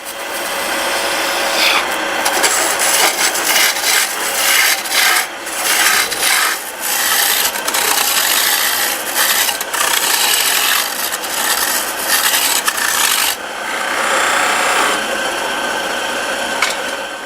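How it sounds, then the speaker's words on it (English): Hand carving and shaping the knob of a wooden baseball bat, a steady close rasping and scraping of tool against wood in repeated strokes, continuous for the whole stretch with no talk. "he carefully carves out the knob"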